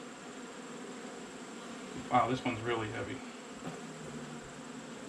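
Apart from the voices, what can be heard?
honey bees buzzing around a hive box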